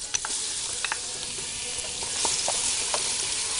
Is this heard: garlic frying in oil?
yes